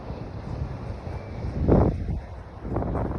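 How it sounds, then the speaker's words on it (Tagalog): Wind buffeting across open sea with waves washing nearby, a low gusty rumble that rises into a stronger surge midway. "Ramdam nyo ba yung alon, kung gaano ka-peaceful, yung hangin, kung gaano kasarap?"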